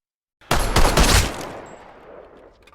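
Loud burst of rapid gunfire rattling off at close range, followed by a long decaying echo that fades out over about two seconds; action-film shootout with no voices.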